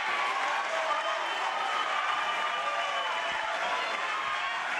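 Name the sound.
boxing arena crowd cheering and applauding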